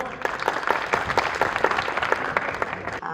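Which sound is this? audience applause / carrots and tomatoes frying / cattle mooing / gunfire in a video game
audience applause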